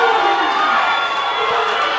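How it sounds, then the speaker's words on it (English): A crowd cheering and shouting at a rugby grand final between South and the Dragons: a loud, continuous roar of many voices with a few rising calls, filling the whole moment. "Crowd getting involved"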